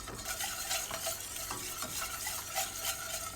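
A wire whisk scrapes and swirls quickly through a thickening Konya höshmerim dessert mixture in a cooking pot, a dense rhythmic stirring rasp over a light sizzle, close and continuous with no voices.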